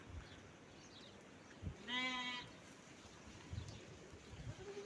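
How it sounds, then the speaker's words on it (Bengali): A single clear bleat from a goat or sheep rises out of quiet farm ambience, where goats and sheep are raised for Qurbani, with faint scattered thumps and rustles around it. "এখানে কিন্তু ভেড়া ছাগল সব কিছু লালন পালন করা হয়"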